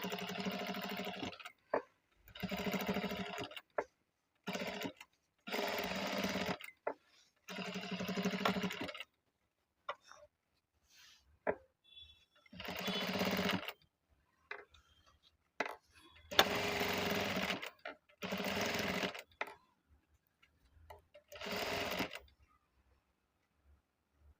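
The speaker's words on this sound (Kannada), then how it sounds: "ಇಲ್ಲಿಂದ ಇದು ನೀಟಾಗಿ ತುದಿಗೆ ಬರೋ ಥರ ಸ್ಟಿಚ್ ಹಾಕೊಳ್ಳಿ" A sewing machine stitches the edge of a blouse round neck with invisible ready-made piping, running in short separate bursts of a steady mechanical whir with brief pauses between them.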